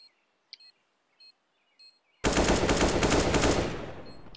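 Sparse electronic beeps tick over near-silence in a Counter-Strike: Global Offensive match, then a sudden loud, dense burst of close shotgun fire erupts and continues for about two seconds before easing slightly.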